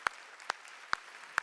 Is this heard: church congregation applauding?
yes